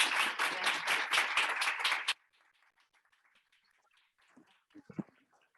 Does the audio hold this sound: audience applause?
yes